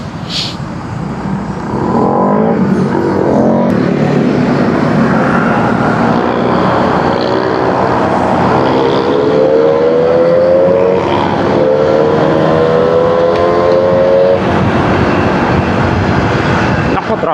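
Road traffic streams past on a busy street, with loud, sustained engine roar and rising and falling engine tones as vehicles pass close by.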